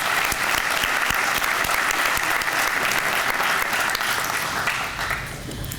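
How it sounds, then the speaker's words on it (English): A church audience gives sustained, dense applause throughout, loud and steady with no talk over it, tapering slightly at the very end. "we all need to give a round of applause to Pastor McJunkins"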